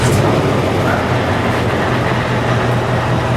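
Steady low diesel drone of a 2017 Scania S580 V8 truck engine idling after a cold start, a loud continuous rumble heard close from a cab window with no talk.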